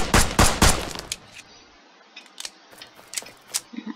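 Gunfire aimed at a computer in the sandbox game Brick Rigs, with a fast loud burst of shots at the start, then scattered sharp clicks and small impacts trailing off.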